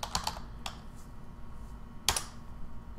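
Fingers tap out notes on a computer keyboard, a few quick close keystrokes at the start, then a pause and another short burst of clicks over a low steady room hum.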